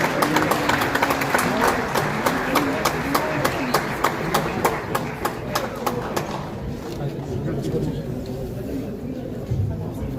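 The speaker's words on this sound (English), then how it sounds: "let's give them a round of applause" Audience at a Kosovo Independence Day celebration in New York City applauding together: a dense, steady wash of clapping from a large crowd, strong at first and gradually thinning toward the end.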